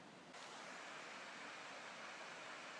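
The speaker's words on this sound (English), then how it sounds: "And down here is part of the Devil's Bridge Falls, or the, Rhieda Mynach." Devil's Bridge Falls waterfall in Wales, a continuous broad rushing roar heard from a distance, steady and even for the whole stretch.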